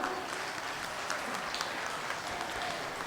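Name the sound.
audience applause at school annual day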